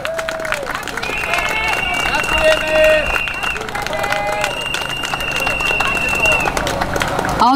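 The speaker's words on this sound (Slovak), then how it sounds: "Zaslúžia si potlesk takisto." A crowd applauds the city police at an outdoor gathering in Bratislava, a dense steady clatter of many hands mixed with crowd noise and voices, loud and close throughout.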